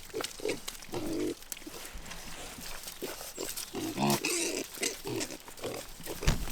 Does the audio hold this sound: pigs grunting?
yes